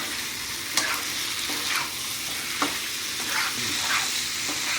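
Potatoes coated in chilli powder sauté in a pan with a constant close sizzle, as a spatula scrapes and knocks against the pan in a loose rhythm every second or so. No one speaks.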